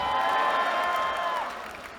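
Graduation ceremony audience at the Haas MBA commencement, giving a burst of applause and cheering from a large crowd that is loud at first and then fades away over about two seconds.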